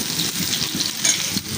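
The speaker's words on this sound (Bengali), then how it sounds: "সেখানে আমি আলুটাও ভেজে নিতেছি।" Potatoes frying in a very hot kadai give a steady close sizzle with faint scraping and stirring. The pan is hot enough that the potatoes start to scorch as soon as they go in. There is no talk.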